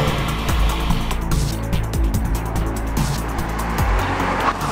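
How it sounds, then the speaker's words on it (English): A 2015 car on original suspension launches hard from 0 to 62 mph in sport mode, its engine loud and close as it revs up steadily through the gears, with a brief tire chirp. "Patrick, first test, 0 to 62 miles per hour"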